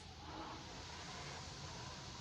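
Concept2 indoor rowing machine flywheel producing a steady whooshing hum during a stroke, broadband and constant in level with no talking.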